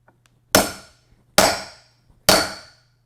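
Three sharp, evenly spaced hammer whacks ring out on a tool set over the key in a Master lock, each strike loud and close with a short metallic decay.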